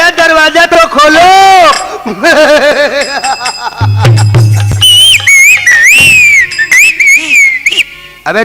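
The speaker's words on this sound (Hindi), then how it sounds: "अबे तुम कहाँ सीटी बजा रहे हो?" A person whistles a wavering, sliding tune in a Bhojpuri nautanki folk-theatre performance, loud and close, with a voice and other speech mixed in around it.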